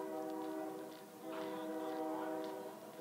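A train passes on the track just behind a baseball ballpark, its horn sounding as steady sustained tones over a wide rumble, distant and fairly faint throughout.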